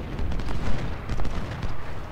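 Sustained gunfire in Ultimate General: Civil War, Battle of Stones River: a dense, rolling mass of musket volleys and booming cannon blasts, steady and loud throughout with no pauses.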